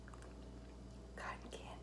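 Close, quiet chewing of soft cherimoya custard apple fruit, faint moist mouth sounds and a couple of brief louder bites under a low background hum.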